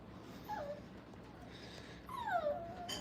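Puppies from a nine-pup litter in a dog kennel, whimpering in two high, thin, falling whines, the second longer and louder, over quiet background noise.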